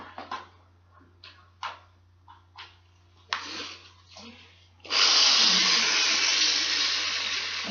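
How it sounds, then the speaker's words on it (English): A wire brush hand drill grinds steadily against a hollow dried gourd, a loud continuous scraping whir that starts after several short, scattered knocks and rustles. "I use this specially made wire brush hand drill"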